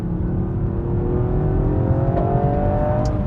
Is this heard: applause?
no